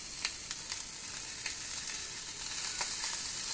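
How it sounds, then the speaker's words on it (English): Beef short ribs sear in a hot skillet with a steady, dense sizzle, broken by occasional sharp pops and spatters. The sound is continuous and fairly close, and no one speaks over it. "Get these seared up. You got my skillet going."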